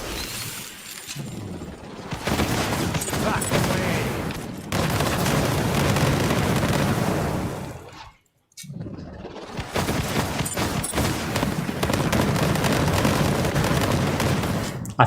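Rapid gunfire and booming explosions from the video game Borderlands 3 pour out in loud, dense bursts, broken by a brief near-silent gap midway before the barrage resumes.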